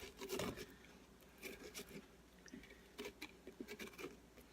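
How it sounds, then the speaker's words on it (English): A kitchen knife scrapes the inside of a pumpkin being carved into a jack-o'-lantern, giving faint, quiet rasping strokes in short bursts with pauses between them. "Just taking the knife and scraping it."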